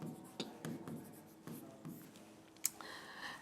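Chalk or marker strokes scratch across a board during a Hindi grammar class, forming short irregular bursts of scribbling with a sharp tap near the end, close and fairly quiet.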